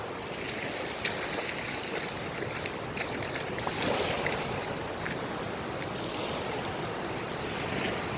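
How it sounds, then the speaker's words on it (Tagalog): Sea waves at Pagudpud beach make a steady, moderately close wash of surf with soft rushing swells and light wind, continuous and without talk. "Medyo maalon, medyo meron ding hindi maalon."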